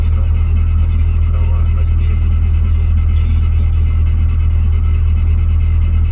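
A tractor hauling a stuck truck up a hill on a bad road, a loud continuous low engine drone and rumble that holds steady throughout.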